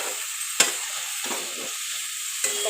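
Squash pieces frying with spices in oil, stirred in a pan: a steady close sizzle with a few sharp scraping clinks of the spoon against the pan, no voices.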